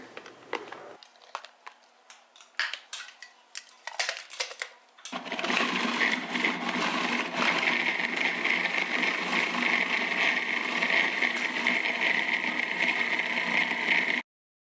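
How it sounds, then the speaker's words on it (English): A food processor whirs loudly and steadily for about nine seconds, blending pitted dates into a thick, dough-like paste, after a few seconds of clattering and rustling at the start. "we're going to add them into the food processor and blend them until they turn into a paste"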